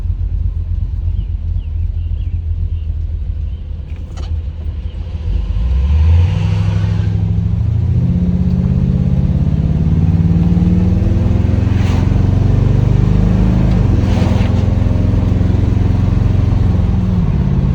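A 1977 Chevrolet El Camino idles with a steady rumble, then pulls away onto the street, its V8 engine rising and shifting through gears loud and close, with no talking.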